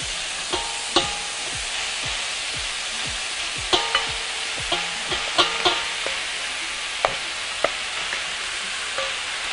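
Minced meat sautés with peppers in a pan, giving a steady close sizzle broken by scattered stirring clicks and scrapes of a utensil against the pan, with no talking.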